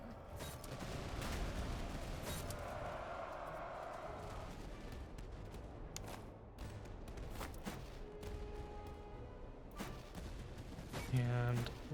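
Musket volleys crackle in the battlefield game Master of Command, a dense spread of overlapping shots and rattling fire rolling under a steady din of battle, fairly distant and low in level, with a short tonal blip near the end.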